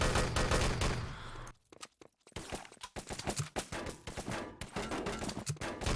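Rapid gunfire rattles in the game Enemy Territory during a 3on3 LAN tournament match, loud dense bursts that drop to a near-silent gap after the first second before returning in rapid volleys to the end.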